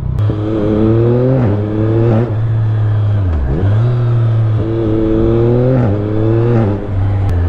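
Yamaha MT-09 SP 2023 motorcycle engine accelerating hard, its note climbing in repeated rising sweeps that drop back at each gear change, loud and close with no talking.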